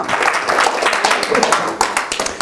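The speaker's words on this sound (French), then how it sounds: "Ça vaut une bonne main d'applaudissement." A church congregation applauds during a service, giving a dense, continuous patter of clapping hands with voices mixed in.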